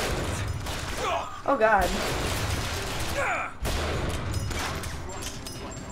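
Enemy gunfire in Bioshock Infinite, a rattle of shots landing amid game noise while a player speaks over the action.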